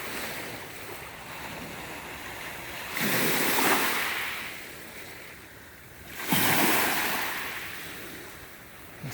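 Waves wash onto a small beach at St Ignace, Michigan, across the water from Mackinac Island, rising in two slow swells over a steady roar with wind buffeting the microphone.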